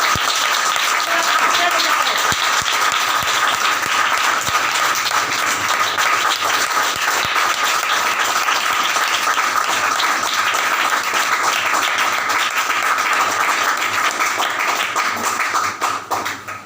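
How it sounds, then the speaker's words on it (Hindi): A church congregation bursts into loud, sustained applause, dense continuous clapping filling the room without a break before easing slightly at the very end. "मेरे यीशु के कलाम के लिए ठंडी नहीं, जोरदार तालियां।"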